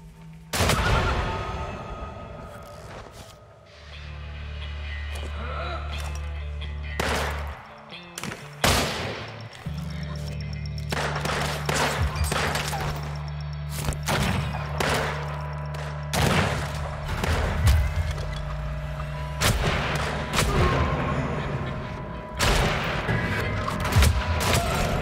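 Repeated gunfire in the Weird West video game, a dense run of loud shots and booms firing in bursts over a low rumbling game soundtrack, with no one speaking.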